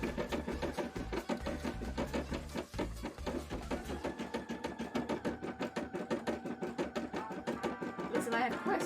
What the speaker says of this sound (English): Sewing machine, you're scaring me.